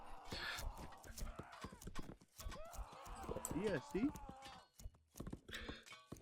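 Hooves clip-clop from cavalry horses in the real-time strategy game 0 A.D., a 1v1 match, sitting low under nearly continuous commentary from someone speaking throughout.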